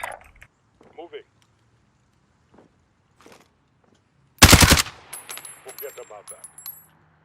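A short, loud automatic burst from a CR-56 rifle in Call of Duty Warzone cuts through a quiet stretch and fades into metallic clinks and scattered after-sounds, with faint voices chatting softly before it.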